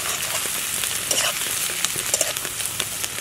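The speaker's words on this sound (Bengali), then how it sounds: "রসুন বাটা দিলাম ভালো করে একটু নেড়ে নিতে হবে" Garlic paste frying in a pan while being stirred, with a steady crackling sizzle overlaid by soft scraping strokes and small clicks of the spoon at a close distance, and no speech.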